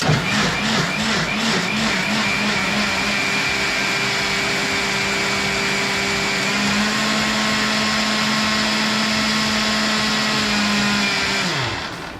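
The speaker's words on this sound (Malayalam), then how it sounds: "ചക്ക നമ്മൾ മിക്സിയിൽ നന്നായിട്ടൊന്ന് അരച്ച് ജ്യൂസ് പരുവത്തിനെടുത്തു." A mixer grinder blends steamed jackfruit into a smooth pulp, a loud, steady motor whine running almost the whole time. Its pitch shifts partway through, and it winds down at the end.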